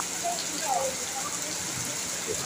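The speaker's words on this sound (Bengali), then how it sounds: "অনেক জায়গায় কিন্তু বৃষ্টি অনবরত হচ্ছে এবং ঝড়ও কিন্তু হচ্ছে" Heavy rain pours down in Kolkata in a constant, dense wash of hiss that doesn't let up, while a voice murmurs faintly beneath the downpour.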